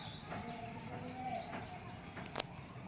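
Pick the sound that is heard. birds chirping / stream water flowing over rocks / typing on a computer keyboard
birds chirping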